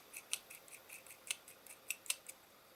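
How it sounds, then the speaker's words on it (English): A bolt being screwed by hand into a small brass insert assembly, giving faint, crisp metallic clicks and ticks in an irregular series over a quiet background. "put the bolt through, and screw that into place"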